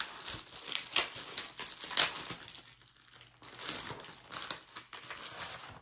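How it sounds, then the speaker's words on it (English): A 3M laminating sheet being handled, crinkling and crackling in a few sharp bursts with quieter rustling between, close and fairly faint. "So I'm going to take a 3M laminating sheet."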